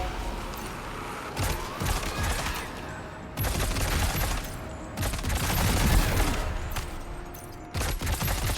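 Gunfire in Death Stranding 2 comes in several loud bursts of rapid shots separated by short lulls, sharp and close.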